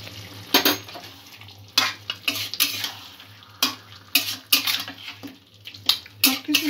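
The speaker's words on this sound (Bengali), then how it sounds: "সব কিছু ভালো করে আবারও মিক্স করব" Chicken kalia spices and turmeric being mixed in a pan: repeated scraping and stirring strokes in irregular bursts with light metallic clatter, close and fairly loud over a steady low hum.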